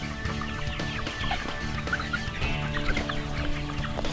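Pasture-raised chickens cluck and murmur close by in their pen, a busy overlapping chorus of short clucks and calls with no talking.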